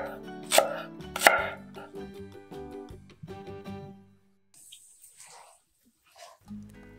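A knife chops food on a board in a few sharp strikes, two of them loud near the start, followed by quieter cuts and then near silence with faint faraway noises.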